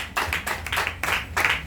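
A church congregation claps together in acclaim, a quick run of sharp, loud handclaps in an uneven rhythm lasting under two seconds, with no voices over it.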